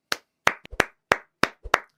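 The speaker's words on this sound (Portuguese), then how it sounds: "aplausos." Hand claps, sharp and separate at an irregular slow pace, about seven or eight loud distinct claps close by with silence between them.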